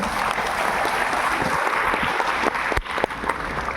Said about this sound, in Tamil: உங்கள் பலத்த கரவொலியோடு